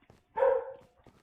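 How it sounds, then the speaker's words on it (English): A single loud dog bark rings out close by, a short sharp yelp with some faint room noise around it. "My dog is so loud."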